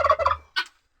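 A backyard turkey kept among hens gobbles once in a quick, rattling burst, then gives a short, sharp call, close and loud before falling silent.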